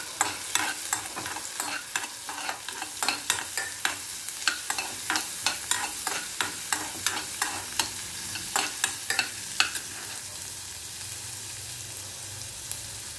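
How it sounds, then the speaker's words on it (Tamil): Chopped onions sizzle steadily in a hot pan for a quick Indian side dish, with a spoon scraping and stirring in frequent rhythmic strokes through the whole stretch, close and fairly quiet, without talking. "அதுக்கப்புறம் வெங்காயம், வெங்காயத்தை போடுங்க. வெங்காயம் கொஞ்சம் நல்லா வதங்கட்டும்."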